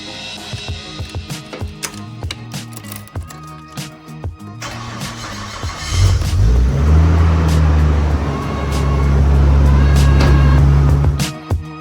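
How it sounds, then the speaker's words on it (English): A turbo Nissan Skyline R34 engine starts up and settles into a loud, steady warm-up idle after several seconds of clicks and small handling noises, heard close with no talking. "let's get in the car, get this warmed up"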